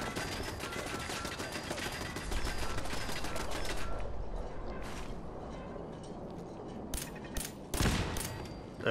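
Turret gunfire in Fallout 4, a dense continuous burst of rapid shots for several seconds, then scattered sharp cracks and mechanical clatter, loud and close.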